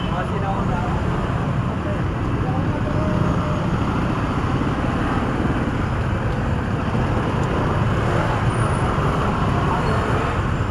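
Heavy roadside traffic beside a tricycle terminal, with trucks passing, makes a constant loud roar of engines and tires, close and unbroken, with a voice speaking faintly underneath.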